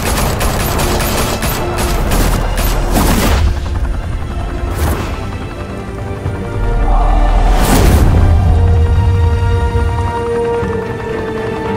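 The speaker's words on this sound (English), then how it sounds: "Open fire!" A shootout in Batman: The Telltale Series, with rapid bursts of gunfire early on, heavy booming shots near the middle, and a steady rumbling backdrop of loud, close combat noise throughout.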